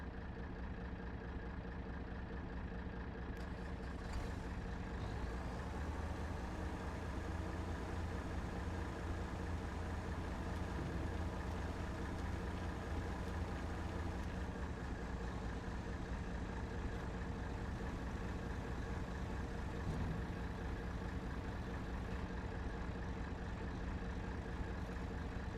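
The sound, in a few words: lorry loaded with stones, engine idling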